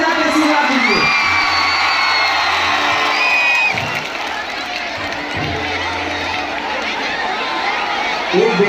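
A crowd at a Bhojpuri stage show in Kolkata cheers and claps loudly and continuously, a dense roar of voices and applause with a voice over it.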